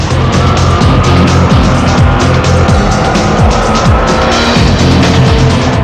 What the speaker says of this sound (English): In the final, it was the speed and sound Opel of Satish Harichand up against Chase Aragnot